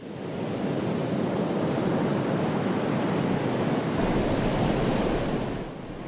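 Sea waves roll and churn steadily by the seaside village of Al Muraisi, a loud, continuous wash of surf and rushing water mixed with wind noise, with no voices.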